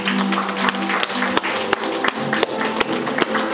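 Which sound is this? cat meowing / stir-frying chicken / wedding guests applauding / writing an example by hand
wedding guests applauding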